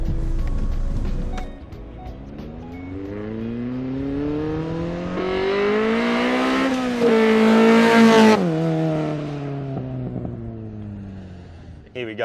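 An engine revs up and climbs in pitch as an old Honda-powered Mini speeds past, roaring loudest mid-pass, then drops away into the distance.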